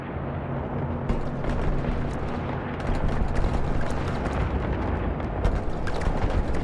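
Loud, continuous explosion noise as a smuggling hub blows up in the space game Eve Online, a dense rumbling roar with repeated bursts and booms that swell around three seconds in and keep going to the end.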